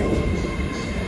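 A train arrives at a London station, a loud, dense rumble with rolling rail noise that stays steady throughout, close by and with no talk over it.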